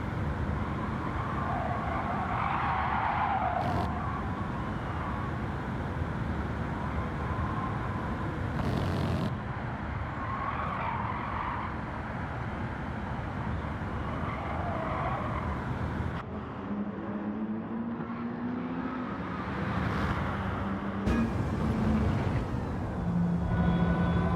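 Race car in Gran Turismo 7 fitted with a front splitter and custom rear wing, its engine droning steadily with shifting revs and occasional sharp transients throughout, loud and close with no talk.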